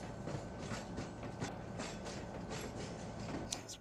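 A train runs in the Trainz Android railway game, an Indian Railways Kakatiya Express, giving off a faint, steady mechanical rumble with light rhythmic clanking of wheels and wagons.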